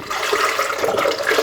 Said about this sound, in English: now I'm going to put in a little bit more vegetable broth